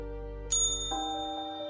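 A notification bell dings: a bright single chime strikes, followed by a second lower tone that rings out and decays, clean and isolated.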